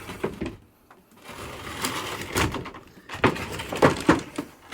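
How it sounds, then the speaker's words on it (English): Double sliding doors inside a Class C RV roll open and shut in a few quick, close rattling slides with soft thuds, no talking over them. "Double sliding doors."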